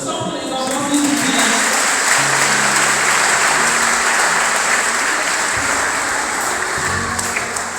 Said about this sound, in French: Applaudissons pour les enfants